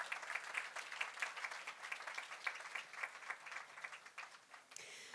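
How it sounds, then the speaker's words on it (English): Applause from a seated crowd at a migration monument unveiling ceremony, with dense, steady clapping held at a moderate level for several seconds before it cuts off abruptly. "A big clap to all our mothers here and who departed."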